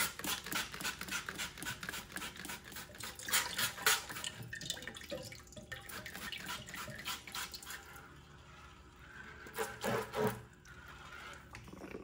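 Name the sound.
hot tap water running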